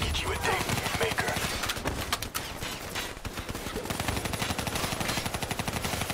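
Rapid automatic gunfire rattles without pause in Call of Duty: Black Ops III, loud and dense, with bursts layered over one another throughout.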